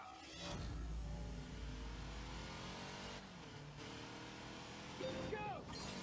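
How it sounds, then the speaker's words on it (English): Purple Fiat with an 80-horsepower engine accelerating in The Grand Tour video game, a loud, steady engine drone rising through revs and ending in a short burst, with some speech over it. "Moving along in his purple Fiat. Unleash 80 horsepower."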